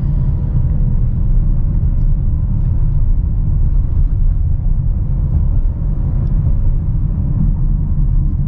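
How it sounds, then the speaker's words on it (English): Inside a 2021 Mercedes GLB 250 4MATIC SUV in sport mode, a steady, loud low engine and road rumble builds under acceleration, with no voices. "Let's say to sport mode and give the car some gas."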